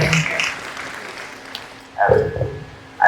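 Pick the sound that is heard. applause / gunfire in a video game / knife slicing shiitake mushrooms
applause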